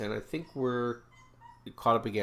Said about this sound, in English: Sorry for the dog barking here.